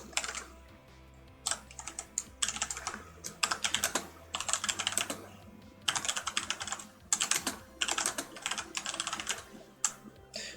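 Code is typed on a computer keyboard in quick, uneven bursts of close, crisp keystrokes. Short pauses separate the bursts over a quiet background hum, and no one speaks.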